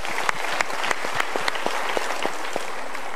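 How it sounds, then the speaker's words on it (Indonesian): Studio audience at a Mario Teguh Golden Ways motivational talk show applauds steadily, a dense, even wash of many hands clapping close by with no talking. "Kalau gitu kita berikan tepuk tangan dulu untuk mereka."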